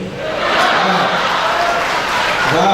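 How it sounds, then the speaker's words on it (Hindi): Crowd at a Hindi comedy poetry show claps in a dense, steady wash of applause, fairly loud and sustained with faint voices mixed in. "तालियां कमजोर है आपकी।"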